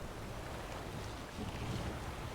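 A sailing boat moving across water in The Witcher 3, a steady broad wash of wind and rushing waves, constant and fairly loud with no pauses or voices.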